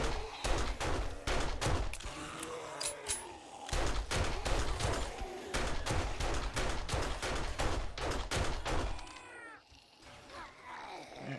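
Rapid 9mm pistol fire in the survival game 7 Days to Die, many loud close shots in quick repeated volleys with short pauses between them, with growling or creature noises in the background.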